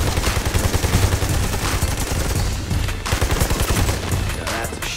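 Dense, continuous gunfire from the video game Army of Two: The Devil's Cartel, rapid automatic bursts and booming shots layered together, loud and sustained with no pauses.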